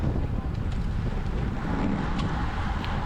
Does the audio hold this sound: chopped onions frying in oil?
no